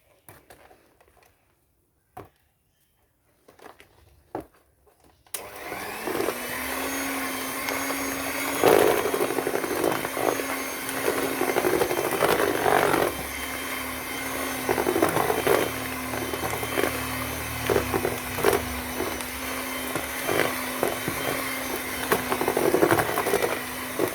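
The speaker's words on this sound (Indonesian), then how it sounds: "Kemudian saya mixer kembali." An electric hand mixer starts up after a few seconds of quiet knocking and whirs steadily at close range, beating chocolate cookie dough for Good Time style cookies in a home kitchen, with small scraping bumps from the beaters against the bowl.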